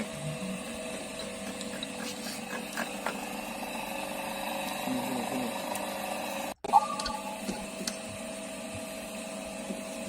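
A milling machine cutting teeth on a spur gear in a vocational school machining shop, a steady mechanical whir and hum with a brief dropout and a sharp click, fairly close and constant.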